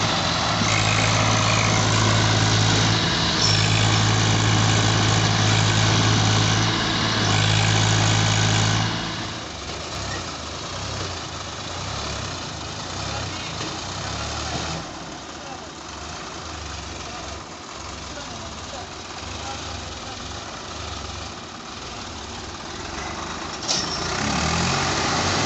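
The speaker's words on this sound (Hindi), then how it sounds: "किसान भाइयों दोनों ट्रैक्टर ने पूरा जोर लगा दिया है।" Two tractors, a Swaraj 744 and a Sonalika 35, strain together to pull a loaded trolley, their heavy diesel engines roaring loudly and steadily at first, then dropping to a lower, rougher labouring drone with intermittent bumps.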